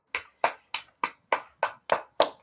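Eight sharp, evenly spaced hand claps ring out close and alone, about three per second, each crisp with a short decay.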